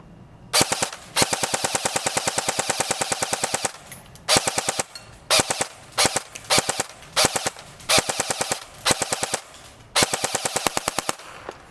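A Barra 400E Gen 2 electric BB gun fires on full auto, rapid loud mechanical bursts of evenly spaced shots, one long burst then several shorter ones separated by brief pauses.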